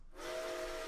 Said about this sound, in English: that's actual audio recording of 765's whistle